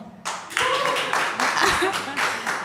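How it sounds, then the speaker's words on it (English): Men in the audience of a climate justice and gender equality discussion give a round of applause; a short burst of clapping from a modest group starts after a moment and continues, with a voice speaking over it. "Can we please see the men give us a round of applause?"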